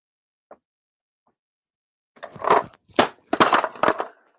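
A thick glass object drops from a height and hits with a bright ringing ding, landing without breaking; a short clatter and knocking come just before and after the ring, near and fairly loud.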